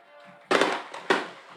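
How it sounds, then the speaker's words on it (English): Two sharp, loud fireworks bangs burst out about half a second apart at an evening high school football game, Washington County at home against Bethlehem, each leaving a brief rumbling decay over faint background crowd noise. "Fireworks going off."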